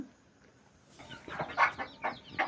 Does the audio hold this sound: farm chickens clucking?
yes